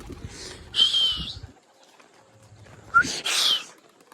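Pigeons make two soft bursts of cooing and fluttering close by, separated by a quiet pause, with faint low rustling and knocks in the background.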